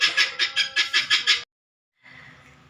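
Pet chickens clucking while eating, a close run of seven sharp rhythmic clucks, then a pause and a softer, lower burst of fowl chatter.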